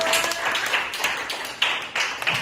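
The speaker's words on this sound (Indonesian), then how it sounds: "Ya, tepuk tangan untuk aku." Several people clapping hands in uneven bursts, fairly close, in a classroom lesson, with a few sharper individual claps standing out.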